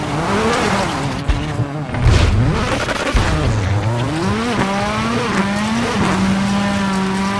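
Rally car in the WRC 6 video game: a loud, continuous engine drone that rises and falls through gear changes and revs, with brief tyre-scrub noise, heard alone without speech.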